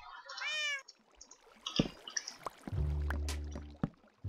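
A Minecraft cat gives a clear, close meow at the start, then other game sounds follow: soft clicks, a dripping noise and a low tonal hum.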